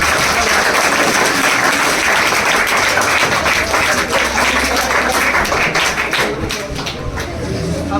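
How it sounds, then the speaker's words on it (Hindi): Applause at an honour ceremony for fourteen youths selected as Agniveer army recruits: dense, steady clapping from a large crowd fills the whole stretch at high volume, with a voice faintly mixed in. "कार्यक्रम के लिए साउंड का, तालियों के साउंड का होना बहुत जरूरी है।"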